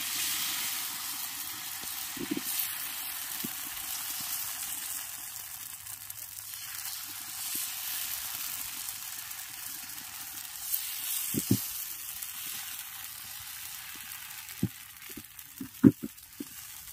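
Vegetable batter with carrot and capsicum sizzles steadily on a hot oiled tawa, a soft continuous hiss with a few faint clicks and knocks of a ladle spreading it.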